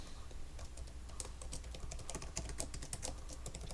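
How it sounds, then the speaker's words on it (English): Rapid, continuous clicking of a computer keyboard as a password is typed during Ubuntu server setup, steady close keystrokes with no talking. "type in a secure password, and hit enter"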